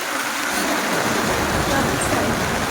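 Heavy rain pours steadily during a walk through a street in Japan, a dense continuous hiss filling the whole moment with low rumbling traffic or surface noise underneath and no clear voices.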